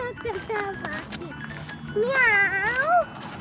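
A singer's voice imitates a cat with a long, wavering meow that rises and falls, sung alone right after a line of a children's song about a rooster.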